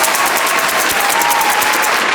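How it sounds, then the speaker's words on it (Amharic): Steady applause from an audience, dense continuous clapping at fairly loud level throughout, with no voices standing out. "ይሄ ጭብጨባ ለእንግሊዘኛሽ ነው"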